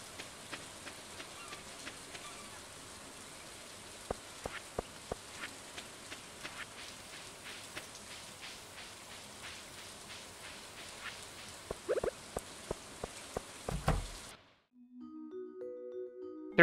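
Steady rain in the video game Stardew Valley, a soft continuous patter with scattered sharper drip clicks, ending in a brief quiet gap and a short game tone.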